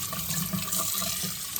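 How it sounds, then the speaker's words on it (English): Warm tap water runs steadily over a tenor saxophone mouthpiece at a sink, a close, continuous hiss and splash with no talking. "you just want to give it a rinse with some warm water"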